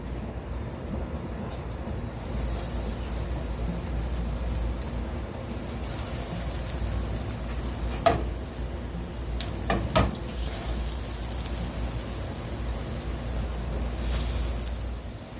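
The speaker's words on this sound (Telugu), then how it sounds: "ఇప్పుడు దీన్ని ఒక్కొక్కటి దాన్ని ఫ్రై చేద్దాం" Potato cheese cutlets frying in hot oil: a steady, dense sizzle and crackle fills the whole stretch, with a couple of brief sharper clinks or pops near the middle and no talking.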